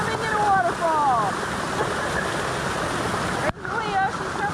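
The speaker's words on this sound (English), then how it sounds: "Ken and Leah are taking a swim in the rain." Steady roaring wash of a rainforest waterfall in Maui's Iao Valley during rain, loud and continuous, with brief bird calls over it and a momentary cut near the end.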